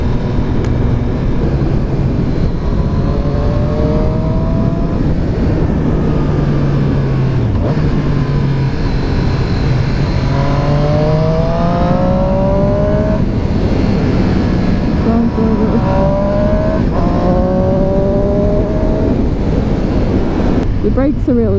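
A Triumph Street Triple 765 RS motorcycle engine revs up and down repeatedly, rising and falling in pitch over constant wind rush from riding, with a voice talking over it.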